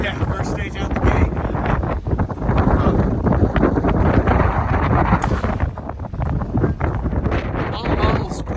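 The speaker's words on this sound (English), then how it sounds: "Yeah, it was a lot of wind." Strong wind buffets the microphone outdoors at a rifle shooting match, a loud, steady roaring rumble that fills the clip with gusty surges throughout.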